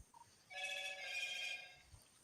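A backup phone lying on a desk rings with one burst of electronic ringtone at moderate distance, about a second long, over a murmuring room background.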